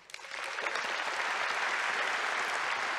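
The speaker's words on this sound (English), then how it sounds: "Round of applause if you had a great time on day one." A conference audience at a Kubernetes keynote bursts into applause, a dense, loud, sustained clapping from a large crowd that swells quickly and holds steady.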